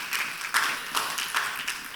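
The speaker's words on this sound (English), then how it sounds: "please clap" Audience at a law conference's in-house counsel forum applauding, a short patter of clapping in the hall, moderately faint and brief.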